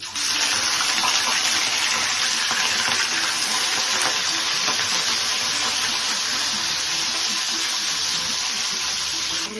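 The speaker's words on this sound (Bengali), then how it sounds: "মাছগুলো ফ্রাই হচ্ছে" Marinated fish coated in ginger juice frying in hot oil, a loud, dense, unbroken sizzling hiss that holds steady throughout, close up.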